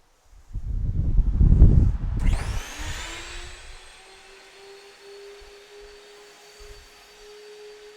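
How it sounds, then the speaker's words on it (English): A CNC router's spoilboard vacuum hold-down switches on with a loud whooshing rush that settles into a steady, rising whine and airflow hiss, running continuously on its own. "we can turn on that vacuum"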